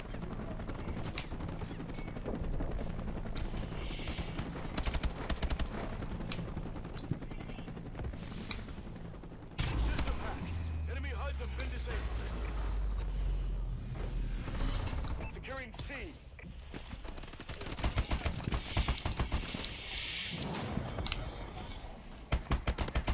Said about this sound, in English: Sentry gun is just going off.